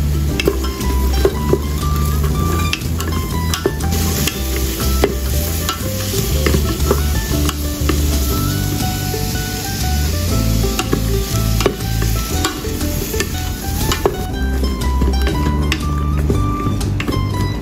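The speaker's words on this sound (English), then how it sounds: "Stir fry onion until fragrant." Onion being stir-fried in a pan, a constant sizzle under repeated scraping and clattering strokes of a spatula against the pan, close and busy throughout.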